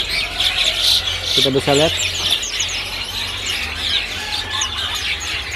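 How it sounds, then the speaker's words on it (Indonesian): Golden myna birds for sale in a bird shop chirp and whistle in a steady busy chorus of high calls, with someone talking over them. "ada penambakan stok burung golden mina juga"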